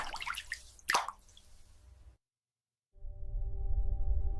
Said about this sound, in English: The movement of the droplet creates mesmerizing patterns.